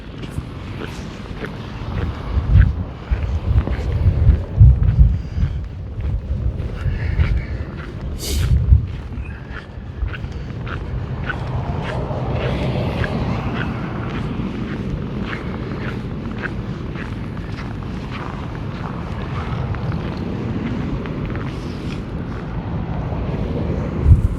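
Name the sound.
high wind blowing snow in a winter blizzard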